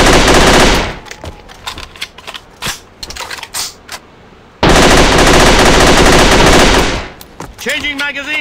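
Dual Uzi submachine guns fire in the video game Ava, two loud sustained full-auto bursts with scattered single shots and clicks between them, followed by a short electronic sound.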